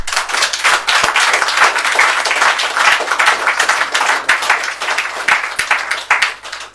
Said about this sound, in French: Nous applaudissons pour le Seigneur.